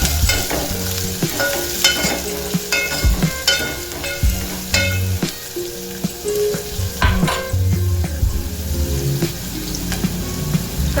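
Chopped onion sizzles as it hits a hot pan over a high flame. Continuous frying hiss is broken by stirring scrapes and clinks, with some faint tonal sounds in the background.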